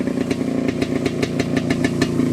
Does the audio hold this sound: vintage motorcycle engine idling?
yes